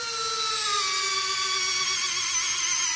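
Small electric motors whir steadily as the wings of an FMS 1700 mm F7F Tigercat RC model fold together, giving a close, continuous high mechanical whine with slowly shifting pitch.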